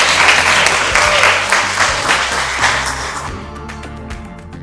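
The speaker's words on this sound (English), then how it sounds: "Let's give them a round of applause." Audience at a campus creator event at UoN Towers breaking into loud, close applause that thins out and stops after about three seconds, leaving a few scattered claps and background music with low bass notes.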